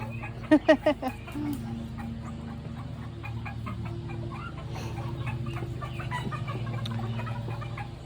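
A backyard mixed flock of chickens, including white-crested Polish roosters and silver laced Wyandottes, clucks softly; a few sharp squawks stand out early, then low murmuring clucks continue over a steady background.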